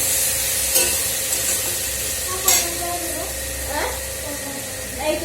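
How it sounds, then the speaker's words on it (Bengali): Onion fritters (peyaji) fry in a pan with a steady, close sizzling hiss, broken by a few sharp clicks and scrapes of stirring. "এই তো চলো পেঁয়াজিটা তাড়াতাড়ি বানিয়ে দিচ্ছি"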